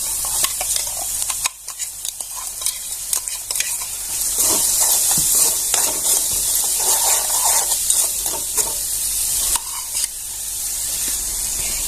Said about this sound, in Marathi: आलं लसूण पेस्ट घालून घेऊया इथे गिरवी बनेल ती घालून घ्यायची आपल्याला इथे